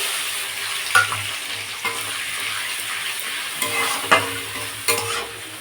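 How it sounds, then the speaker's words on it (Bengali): Spiced vegetarian vegetables are sautéed in a pan, a moderate sizzle punctuated by several sharp scrapes and knocks of a spatula against the pan at irregular intervals, with no talk. "এবার এটা খুব সুন্দরভাবে কষাতে হবে।"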